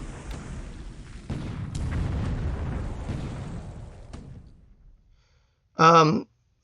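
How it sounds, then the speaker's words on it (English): Naval bombardment of Ndeni in the War in the Pacific Admiral Edition strategy game, a low rumbling series of booms and blasts that fades out, followed by a short, loud, tonal burst near the end. "I believe this is just a straight up bombardment here at Ndeni"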